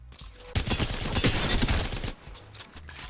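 Rapid burst of gunfire from a gun in the video game Apex Legends, a dense loud volley lasting about a second and a half before cutting off, followed by quieter game ambience.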